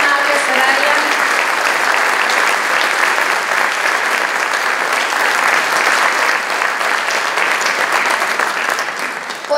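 Sustained applause from an audience honoring restorer Soraya Hernández Afonso at the presentation of a restored San Agustín statue, dense and loud clapping filling the whole stretch without a break.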